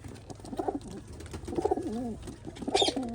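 Soft, low pigeon coos repeat in short rolling phrases, close by, with faint background rustle.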